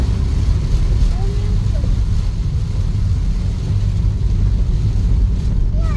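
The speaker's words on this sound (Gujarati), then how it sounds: "જોરદાર વરસાદ ચાલુ થઈ ગયો ને" Steady low rumble of heavy rain and wind buffeting a moving car on a bridge, a dense constant roar with no clear separate drops, close and loud throughout.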